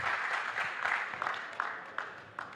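Applause from a conclave audience welcoming a party state president, a steady wash of clapping with a few sharper individual claps standing out, moderately loud and heard without speech.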